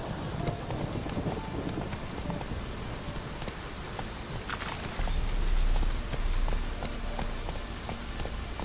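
Roach, the horse in The Witcher 3, runs with a steady rhythmic clip-clop of hooves under rain and ambient game sound, with a low rumble swelling midway.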